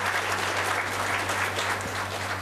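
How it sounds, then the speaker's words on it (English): A conference audience at a panel discussion applauds the panel members, producing a dense, even wash of clapping that holds at a steady level throughout, with no voices over it. "A warm round of applause to all the panel members."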